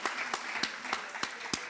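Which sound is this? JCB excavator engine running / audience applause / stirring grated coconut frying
audience applause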